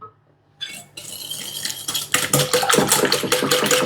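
A metal spoon works through a thick cream in a pot set over steam for a mosaic cake. After a quiet start it brings a few clinks, then quick, rhythmic scraping and clattering against the pot.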